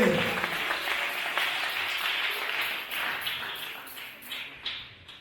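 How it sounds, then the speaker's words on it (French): A church congregation claps for children at a tabernacle anniversary service, a sustained wash of applause from a crowd that gradually thins into scattered claps toward the end. "Est-ce qu'on peut applaudir pour eux, s'il vous plaît?"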